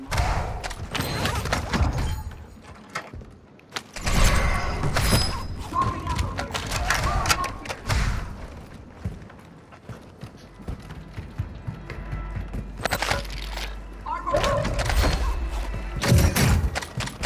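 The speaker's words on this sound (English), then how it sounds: "Airstrike is actually sick" Airstrike explosions in a multiplayer battle-royale video game come as repeated heavy broadband bursts and thuds in several clusters, loud and close, with players talking over the blasts.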